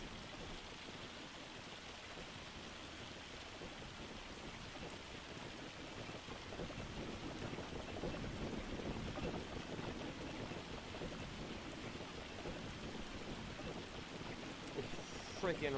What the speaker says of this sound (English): It's freaking raining.